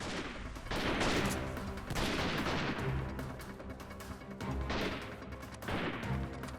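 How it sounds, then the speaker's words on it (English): Gunfire in the PC war game Freeman Guerrilla Warfare comes in repeated rattling bursts and crashing volleys, several clusters of shots overlapping at moderate volume. "I am being shot at."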